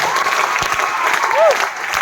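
An audience at a business gathering applauds in a continuous clapping wash, with a voice speaking over it and a brief whistle rising near the end.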